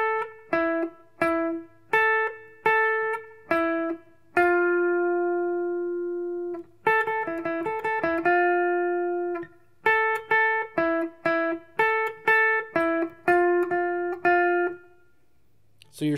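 A guitar plays a riff as clean, plucked single notes and slides in a rhythmic, repeating pattern, with some sustained notes and brief pauses, loud and close with no talking.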